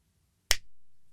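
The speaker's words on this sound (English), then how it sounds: "Now, when I snap my fingers" A single crisp finger snap, close and sharp, set against near silence with a short decay after it.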